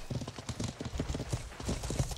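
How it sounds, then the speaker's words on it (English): Horse hooves clip-clop steadily in the medieval combat game Life is Feudal, a continuous rapid patter of several hoofbeats over a busy, noisy background. "Gregory, look out for the horses."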